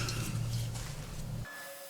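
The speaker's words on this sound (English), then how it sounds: "sanding the inside next." Sandpaper works against the inside of a wood-turned vase spinning on a lathe, a steady close hum and rasp that stops abruptly near the end, leaving a quiet tail.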